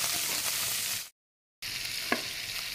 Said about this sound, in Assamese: এটা পিঁয়াজ মিহিকৈ কাটি লৈছোঁ। এইটো ভাজি লৈছোঁ।